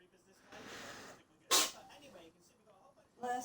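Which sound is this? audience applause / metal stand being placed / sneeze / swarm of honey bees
sneeze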